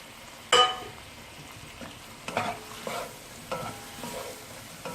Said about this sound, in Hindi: ये ऑयस्टर और विनेगर सॉस, और ज़रा सा इसको 1 मिनट सौते कर लूँगी